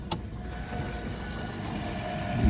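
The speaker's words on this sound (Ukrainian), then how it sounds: "Двигунчик вже у нас заведений" A Toyota Auris 1.6 petrol engine with automatic transmission idles with a low, steady hum and faint mechanical whine, holding an even level throughout.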